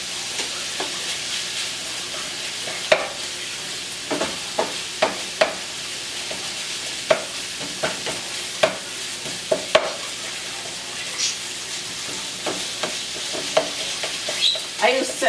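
Longaniza sausage sizzling in a pan, a soft continuous fry broken by regular sharp knocks and scrapes as a utensil chops and stirs it, moderately close with no talking.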